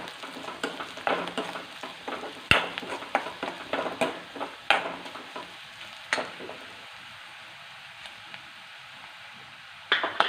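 Green chilies and curry leaves sizzle and crackle in a frying pan, with sharp pops and stirring scrapes over a steady hiss that eases off partway through before a final burst of spatter.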